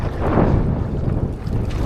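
Strong wind buffets the microphone on a small lake during a canoe trip, a dense, rumbling roar that stays steady and close the whole time, with a faint watery wash beneath it.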